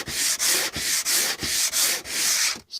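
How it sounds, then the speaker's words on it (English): A sander works across longitudinal wooden timbers for a PS5 console unit build, giving about seven rhythmic, close, scratchy passes with brief dips between strokes before stopping, and no one speaks. "Hit it with a sander."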